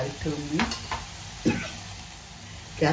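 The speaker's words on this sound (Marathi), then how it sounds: "हळद आपण मिक्स करून घेऊया मसाल्यामध्ये" Turmeric being stirred into a sizzling masala in a pan for potato pulao, with scraping spoon strokes against the pan at irregular intervals over a steady close frying hiss.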